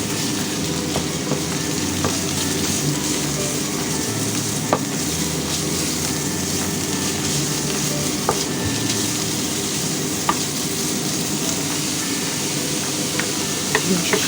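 Mushrooms and pork stir-fry in a hot pan, a loud continuous sizzle with occasional sharp clicks of the utensil against the pan, steady throughout.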